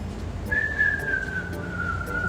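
A single person whistles one long, gently falling note, clear and fairly close, over a faint background murmur.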